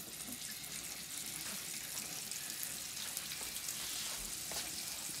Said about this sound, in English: A reassuring sizzle.